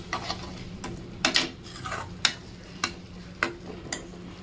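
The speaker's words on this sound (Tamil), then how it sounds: "மீடியம் ஃப்ளேமில் வச்சு இந்த மாதிரி நல்லா வதக்கிக்கோங்க." Tomato masala gravy for Chettinad mutton curry sautéed in a pan over medium flame, a low sizzle broken by sharp scrapes and taps of a spoon stirring at irregular intervals, close and with no talk.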